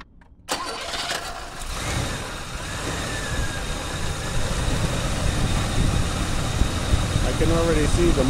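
A 1984 Cutlass 307 V8 with a shaking motor cranks and catches, then settles into a loud, steady, slightly rough idle close by, with someone talking briefly near the end.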